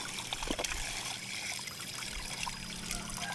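Water trickling and pouring into the intake of a household shallow-well water pump, a steady close liquid dribble that runs throughout without talk.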